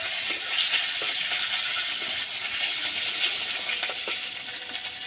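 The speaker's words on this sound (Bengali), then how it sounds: "এবার তেলটাকে একটু লাল লাল করে ভেজে নেব।" Fish fat sizzles and fries in mustard oil seasoned with salt and turmeric, a steady bright crackle filling the pan close up with no talking.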